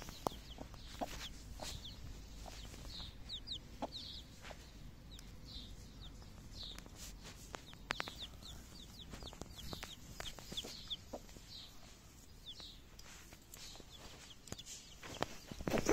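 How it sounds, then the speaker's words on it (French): A hen clucks softly in short repeated calls while scratching the ground for her chick, amid faint scratching and scattered clicks, fairly quiet and close by. "La poule gratte n'importe où pour chercher pour son poussin."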